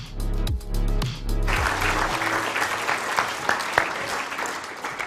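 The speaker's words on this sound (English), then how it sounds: "I think that deserves an even bigger round of applause" At the Queensland Australian of the Year Awards ceremony, a large audience breaks into sustained applause as stage music fades out. The dense clapping continues steadily and fills the hall.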